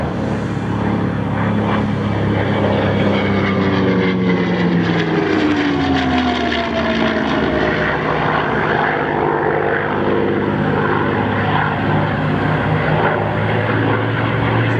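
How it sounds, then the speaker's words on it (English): The P-51D Mustang Quicksilver roars past at an air show, its propeller engine droning loud and steady with a rising and falling pitch as it flies by. "Scott Yoak with the P-51 Mustang"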